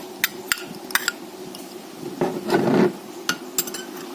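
Chicken being stir-fried with curry paste in a pan: scattered sharp clinks and taps of a utensil against the metal, then one longer scraping stir partway through, close and fairly quiet, with no talking.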